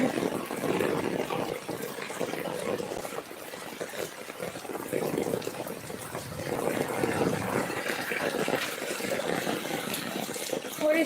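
Heavy storm rain pours down with flooding water gushing and splashing steadily and fairly loud throughout, with voices faintly audible under the wash of water.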